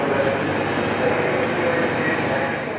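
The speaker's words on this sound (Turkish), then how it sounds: "Tren sabah saatlerinde Konya'ya ulaştı." A train arriving at Konya carrying earthquake relief volunteers from Istanbul gives a steady, broad rail rumble and hiss, close and continuous throughout with no speech.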